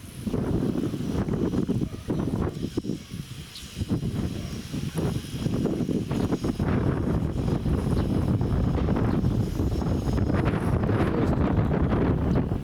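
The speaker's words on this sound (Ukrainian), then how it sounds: "Ви подивіться який вітер, тут сніг здуває." Strong wind blowing snow across a vineyard, roaring and buffeting the microphone continuously, loud gusts with a rough, rushing texture throughout.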